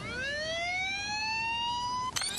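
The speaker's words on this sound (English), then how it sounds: "This is the sound of an American siren." An American police siren recording played back, a loud rising electronic wail that climbs steadily and sustains before cutting off with a brief click near the end.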